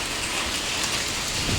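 Heavy rain with hailstones falling, a dense, continuous hiss and patter of drops striking surfaces, steady and alone with no voices.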